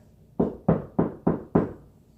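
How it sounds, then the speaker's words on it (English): Five firm knocks on a wooden door in an even, steady rhythm, close and clear with no talking. "She knocked on the door,"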